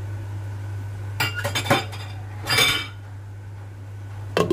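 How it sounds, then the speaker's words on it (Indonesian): A spoon knocks and scrapes inside a pot of Hong Kong-style papaya soup in a few short clinking bursts, with quiet gaps and a steady low hum running underneath. "Kemudian kita aduk-aduk."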